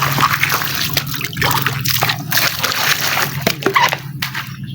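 Water splashes and sloshes close by as someone washes outdoors on a rainy day, with irregular bursts of splattering and dripping alongside steady background noise.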